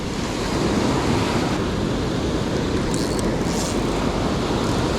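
Ocean waves break and wash onto a beach in a steady, loud roar of surf, with wind buffeting the microphone throughout.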